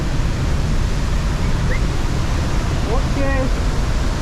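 Rhine Falls in Switzerland roars as a dense, constant wash of broadband noise, loud and unbroken, with a few brief voices and faint tonal chirps over it.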